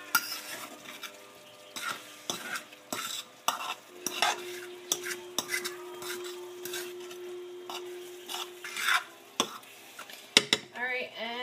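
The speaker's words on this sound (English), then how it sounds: "Give that a good stir." A spoon clatters and scrapes through chilli mac and cheese in a pot, with irregular knocks against the pot and a faint sizzle underneath, while a person talks intermittently.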